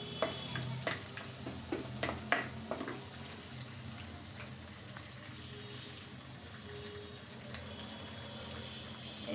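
Whole garlic cloves and chopped onion fry in a pan with a steady, quiet sizzling hiss, broken by a few soft clatters of stirring early on.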